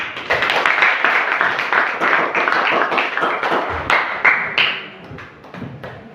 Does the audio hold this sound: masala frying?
no